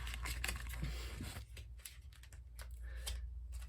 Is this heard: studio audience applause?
no